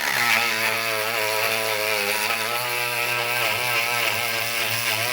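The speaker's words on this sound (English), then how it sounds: "we're taking this Dremel right here, sticking it in there and just grinding it out" A Dremel rotary tool grinds powder coat out of the recess of a front suspension part for an Evo 9, a steady, loud, close whine with a wavering pitch that runs unbroken, with no talk.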